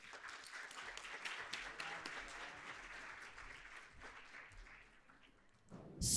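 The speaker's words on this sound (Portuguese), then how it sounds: "Uma palmas, por favor." Applause as a speaker is called to the stage at an investment talk, quiet, dense clapping from an audience, tapering slightly before a loud burst at the very end.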